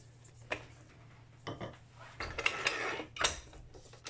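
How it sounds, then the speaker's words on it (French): A whisk beats biscuit dough with eggs and baking powder in a bowl, giving several sharp clinks and scrapes against the sides with a faint voice in the background. "Et on va de nouveau laisser travailler avec le fouet."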